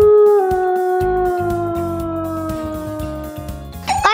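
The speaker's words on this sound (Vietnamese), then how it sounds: "Con chó sói, woof" A wolf howls in a long, loud, sustained wail with a gliding pitch that slowly falls, holding for several seconds before a brief noisy flourish at the end; no talk over it.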